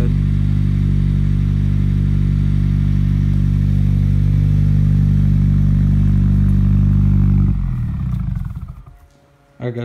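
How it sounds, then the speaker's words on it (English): A 2020 Subaru WRX with a J-pipe and single-exit exhaust idles with a deep, loud exhaust rumble, steady for several seconds before dropping off sharply as it shuts down. "this is what his car sounds like with a J-pipe and an NVIDIA single exit exhaust."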